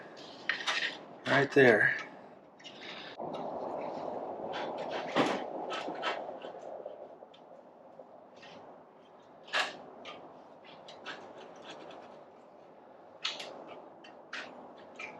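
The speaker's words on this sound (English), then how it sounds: "Grab your pipe and very nicely put that guy on" Metallic clinks, scrapes and taps of an Arrow slip-on exhaust pipe being fitted onto a Yamaha MT10 motorcycle, scattered close handling sounds over a low hum, with brief speech.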